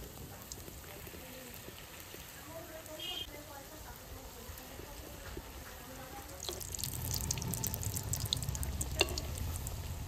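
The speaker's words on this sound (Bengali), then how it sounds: "এবারে আমি বড়াটা ভেজে নেব।" Batter fritters (bora) sizzle in hot sunflower oil, a soft steady frying hiss that swells louder and brighter in the last few seconds, with faint kitchen clinks and no talk.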